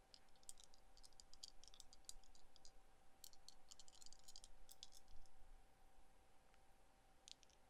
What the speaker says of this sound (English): I want to know if the sound of rolling dice is nice